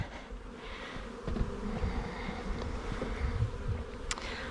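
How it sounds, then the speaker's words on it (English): A dense, continuous buzz of many honeybees in a hive box hums up close, swelling slightly in intensity, with faint handling sounds and no talking. "It's full of bees"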